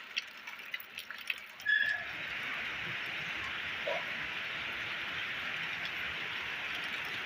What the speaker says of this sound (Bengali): আমাদের এখানে বৃষ্টি শুরু হয়ে গেছে বৃষ্টি হচ্ছে এখন